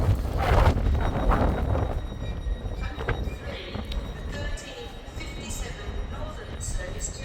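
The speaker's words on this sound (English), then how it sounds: "Yes, it is definitely windy." Strong wind buffets the microphone on a station platform at Newcastle, loudest at the start, with faint rail noise underneath.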